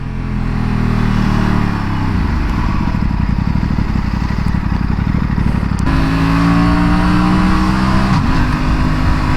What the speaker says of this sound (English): I don't know if you can hear the engine because it has no exhaust,